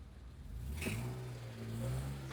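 A BMW E36 car is driven after a manual gearbox conversion, its engine revving steadily through the gears in a medium, moderately loud drone that rises and falls with the shifts, with no talking.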